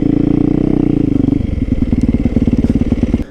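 A supermoto motorcycle engine runs loud and close, its deep pulsing exhaust throbbing steadily, then shifting into a choppier, lumpy beat after a brief blip of the throttle.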